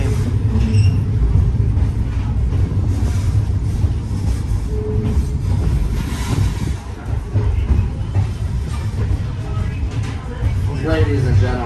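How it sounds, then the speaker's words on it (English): A heritage train runs along the Climax Branch rail line toward Leadville, its steady rumble and wheel clatter filling the car continuously while passengers talk nearby. "in this area you'll begin to feel the train slowing down"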